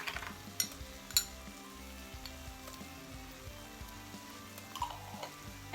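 Red onion and minced garlic fry in a pan with a steady, close sizzle, broken by a few light clinks and scrapes of stirring.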